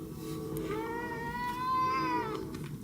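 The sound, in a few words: cat meowing, asking for food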